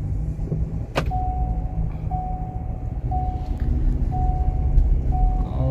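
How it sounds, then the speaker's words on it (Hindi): A Ford Endeavour automatic SUV being driven at about 40 km/h, with a steady engine and road rumble inside the cabin and a short electronic beep repeating about once a second. "अब मैं यहाँ पे आपको चला के दिखा रहा हूँ गाड़ी।"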